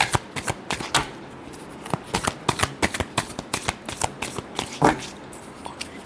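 Tarot cards are shuffled by hand in a quick run of crisp riffling slaps and flutters, close and distinct, repeating in uneven bursts with no talking.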